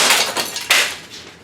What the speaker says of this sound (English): Yearly celebration of an Xbox remote getting smashed.